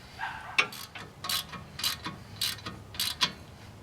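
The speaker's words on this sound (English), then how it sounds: "we're going to snug up all 4 of those bolts in a crisscross pattern" Ratchet wrench with a 15mm socket snugging hub bearing bolts on a 2004 Chevrolet Colorado, giving short bursts of rapid metallic clicking, about six close, distinct strokes at a steady pace.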